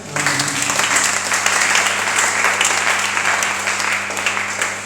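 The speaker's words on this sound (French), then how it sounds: "acclamons pour la gloire de Jésus" Church congregation applauding and cheering at a worship service, a steady dense roar of clapping and voices held at full strength throughout.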